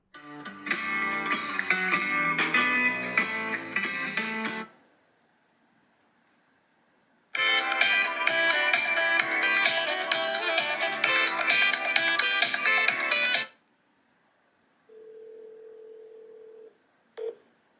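A phone call ringing through an iPhone 14 Pro Max speaker inside a waterproof tempered glass case: two long buzzy rings separated by silence, then a brief steady tone and a sharp click.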